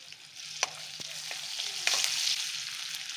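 Ginger and garlic fry in hot oil, a close, steady sizzle with a few stirring scrapes and clicks, and the hiss grows louder toward the end; nobody speaks.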